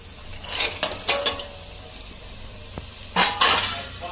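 Avarekalu (field beans) frying in a pan for veg pulao: a soft sizzle beneath several sharp metallic clinks and scrapes of a spoon against the pan, coming in two short bursts near the start and the end.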